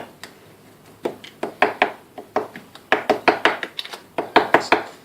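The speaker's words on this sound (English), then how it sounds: "prick it all over with a fork" A fork pricks shortbread dough all over in a baking tin, making a quick series of crisp, close taps that come in uneven bursts.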